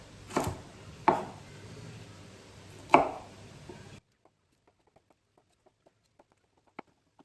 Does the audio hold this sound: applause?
no